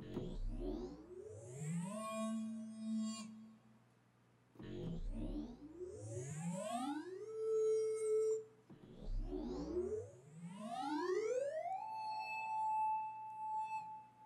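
Three Alchemy synthesizer flare sweeps rise in pitch, each gliding upward into a sustained tone with a shimmering, glassy edge, separated by short gaps.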